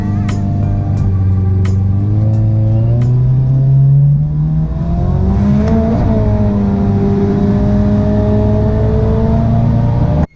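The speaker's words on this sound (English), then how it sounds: "The twin-turbo RB240 from Datsunville is always a highlight." Twin-turbo RB-engined Datsun race car revving hard and close, a loud sustained engine note rising and falling in pitch with turbo whine over about ten seconds.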